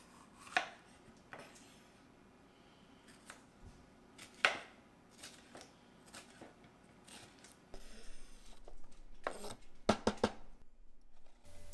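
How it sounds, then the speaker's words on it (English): A knife chops peppers, tomatoes and mushrooms for a camper's omelette on a cutting board, giving sparse, crisp, close-up chops followed by a quicker cluster of cuts near the end. "I'm going to start cutting my peppers, my tomatoes to put in my omelet, and some mushrooms in pieces."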